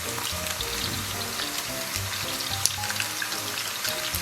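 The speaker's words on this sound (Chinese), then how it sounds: "咱们把葱姜蒜给它下进去，简单给它炒香" Scallion, ginger and garlic dropped into hot oil sizzle with a steady, close crackle and spitting, a continuous frying hiss with faint background tones and no talk.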